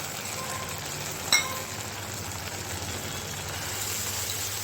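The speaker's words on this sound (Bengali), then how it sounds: "ভালো করে আমি মশলাগুলো কষে নেব।" Masala paste frying in a pan for a fish curry: a steady, faint sizzle with a soft hiss, broken by one brief clink of a utensil.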